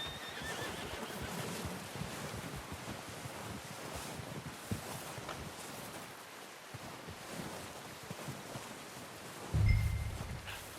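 A horse in the video game Red Dead Redemption 2 whinnies and snorts amid clopping hooves and a windy, surf-like backdrop, with a louder thump near the end.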